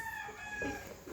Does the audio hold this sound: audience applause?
no